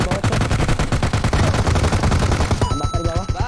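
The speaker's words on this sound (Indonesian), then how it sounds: "Tembakan di bawah." Rapid automatic gunfire from the battle royale game PUBG, loud and continuous bursts of shots throughout, thinning toward the end with faint tonal game sounds.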